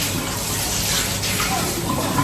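Water runs steadily into a cooking pot from a kitchen tap, a continuous broadband gush that stays at an even level throughout.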